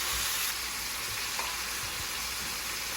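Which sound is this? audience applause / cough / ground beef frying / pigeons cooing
ground beef frying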